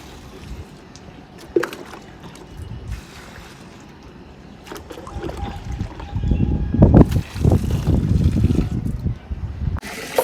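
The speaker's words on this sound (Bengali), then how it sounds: "জলও ঝটপট করে একটুখানি গাছে জলগুলো দিয়ে দিই" Water is poured quickly onto garden plants on a hot day, starting as a faint trickle and building to a louder, splashing gush in the last few seconds, close by.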